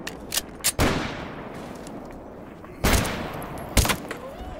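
Gunfire in the survival shooter STALKER GAMMA: several sharp, loud shots with long echoing tails, a few quick single cracks followed by heavier blasts spaced a second or two apart, no talking.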